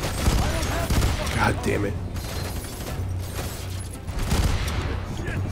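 Burst-fire gunshots in the shooter game F.E.A.R. 3, with short rattling volleys and booms inside a dense, noisy combat mix while someone talks and swears over it.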